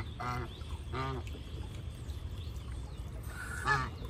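A Pekin duck on a farm quacks beside its water tub: three separate nasal quacks spaced out over a steady low background rumble, at moderate distance, with no talking.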